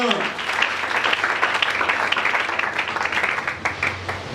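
A church congregation applauds in a dense, continuous patter of many hands that lasts several seconds, with voices mixed into the clapping.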